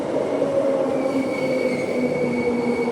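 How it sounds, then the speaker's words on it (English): A commuter train rumbles through Oats Street Station without stopping at steady speed, a constant rolling roar and faint wheel squeal, loud and close, no voices. "That train is genuinely skipping the station."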